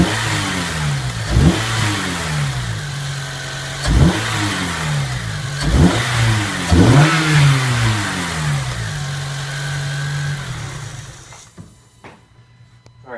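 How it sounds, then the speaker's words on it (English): A 2010 Honda Civic Si engine with its stock intake revs repeatedly from idle, four or five sharp climbing revs that fall back each time, close and loud, before settling to a steady idle and cutting off. "now we're going to let you guys hear what the stock intake sounds like."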